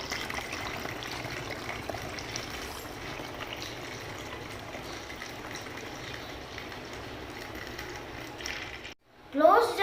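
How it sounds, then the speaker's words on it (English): Colored water poured through a funnel into a plastic bottle for a class science demonstration, a steady trickling, splashing flow running on for several seconds before stopping, with a brief louder burst at the end. "Then pour the colored water into bottle by closing the hole using funnel."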